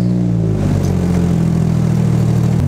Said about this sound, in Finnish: Pakkas keli ja tosi nätisti käynnistyy.